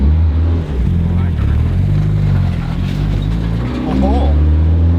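A Mitsubishi Evo 8, running for the first time in five years, drives along, heard from inside as a loud, steady low engine drone with rumbling harmonics and small shifts in revs, while people talk excitedly over it.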